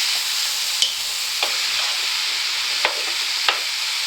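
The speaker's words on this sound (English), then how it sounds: "give that a good stir" A spoon stirring beef stroganoff in a pot, a steady soft sizzle with a few sharp scraping clicks spaced out against the pot, close and alone.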